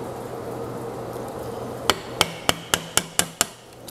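Outdoors, a hammer strikes a chisel to chip out wood while building an oak blackboard frame, seven sharp, evenly spaced knocks over steady background noise.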